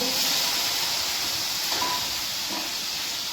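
A continuous soft hiss of steam escaping from a covered pot of stuffed okra cooking, steady and close, with faint clicks in the background.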